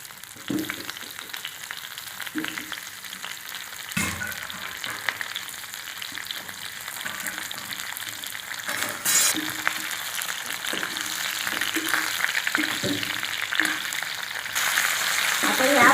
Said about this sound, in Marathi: आता आपण फोडणीमध्ये कांदे टाकून घेऊ